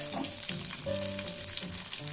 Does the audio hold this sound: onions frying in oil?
yes